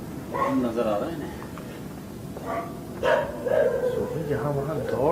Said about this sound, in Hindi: यहाँ वहाँ दौड़ रहे हैं कुत्ते, भाग रहे हैं, भौंक रहे हैं